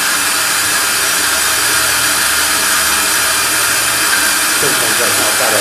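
An EBC Pro-cut on-car brake lathe machines a brake disc, giving a loud, steady broadband hiss and whir that holds constant throughout.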